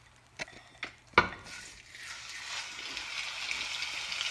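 Meat dropped into a hot oiled pan after a few sharp clanks and clicks, then a rising, steady sizzle of browning that grows and holds to the end.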